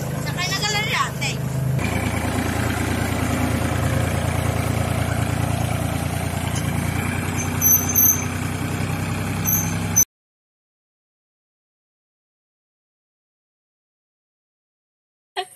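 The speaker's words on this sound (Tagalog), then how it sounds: "Nakakatuwa mag-drive ng traktora." A tractor engine runs while being driven on a calamansi farm, a low steady mechanical drone under people talking for about ten seconds before the sound cuts to silence.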